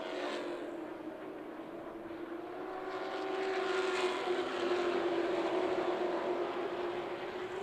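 Race cars on used bias-ply tires lap Myrtle Beach Speedway during a 30-lap feature, a steady engine drone that swells louder midway as the field passes nearby, with no talk.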